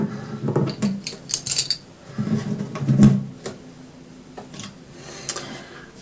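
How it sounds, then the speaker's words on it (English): A string winder levers an old bridge pin out of an acoustic guitar during a restring, giving a scattered run of light clicks, taps and small scrapes close by, with no talk. "I'm going to use my string winder to get the old man's tooth out."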